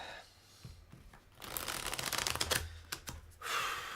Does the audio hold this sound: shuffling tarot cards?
yes